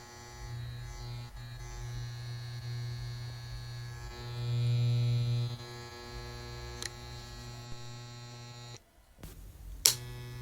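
A 1970s Andis Model M electric hair clipper buzzes with a steady, fairly quiet mains-pitched hum that swells briefly partway through. It ends with a short clunk and a click.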